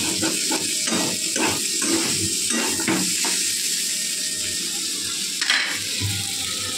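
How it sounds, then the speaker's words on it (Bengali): Potato and bitter gourd frying in a pan with a steady loud sizzle, broken by repeated scraping and clinking as the food is stirred, then a continuous hiss. "এখন আলুতে উচ্ছে ভাজা হচ্ছে"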